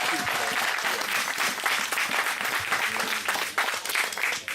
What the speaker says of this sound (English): Applause for Mrs. Baker.